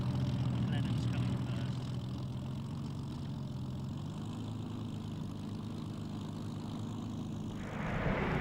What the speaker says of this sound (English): Here we see the Blenheim taxiing into position, dwarfed by the much larger B-17.